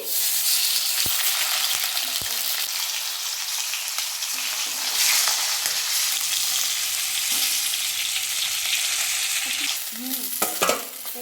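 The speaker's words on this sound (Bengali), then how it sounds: "গরম হয়ে গেছে, এবার আমি মাছের মাথাগুলো দিয়ে দিচ্ছি।" Fish heads sizzle and crackle in hot oil in a wok, a loud, steady frying hiss that runs throughout, with a few sharp pops and stirring clatters near the end.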